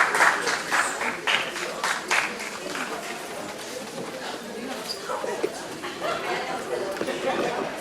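Audience applause rings out after a stage play, a broad wash of clapping that is strongest at the start and then thins into scattered claps and a chattering crowd.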